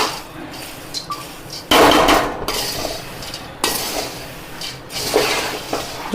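Spicy puffed rice with peanuts is stirred in a pan over a low flame, the spoon scraping and clinking against the metal in uneven bursts, with louder stretches of rattling between quieter moments.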